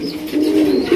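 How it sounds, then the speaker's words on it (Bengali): A large pair of American fantail pigeons cooing up close, one loud, drawn-out throaty coo rising and swelling with no talking. "যারা একজোড়া আমেরিকান ফ্যান্টাল কবুতর খুঁজতেছেন আশা করি এই জোড়া আপনাদের পছন্দ হবে।"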